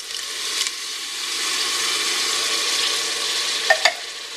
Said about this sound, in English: Now that the onions look fully cooked and the oil has separated from them, I'm going to add the diced tomatoes.